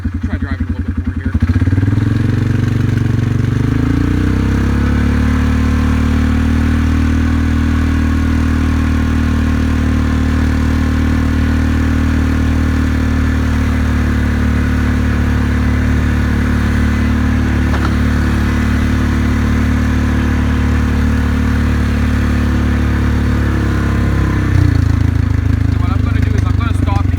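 A Polaris Sportsman 500 ATV engine runs steadily while driving, a close, loud droning hum that rises in pitch as the quad speeds up and eases back down near the end, with a person talking over it.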